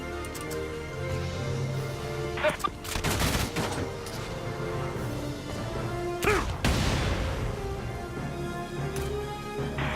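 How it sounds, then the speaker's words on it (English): Enemy gunfire from the Valkyria Chronicles 4 video game, sustained rapid bursts and a few sharp louder cracks and impacts over a steady rumbling battlefield backdrop, no voices. "The enemy's returning fire!"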